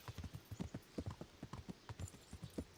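Horse hooves galloping at a steady mid-pace gallop in the medieval video game Kingdom Come: Deliverance, a quick rhythmic clip-clop of repeated beats, close and fairly loud with no voices.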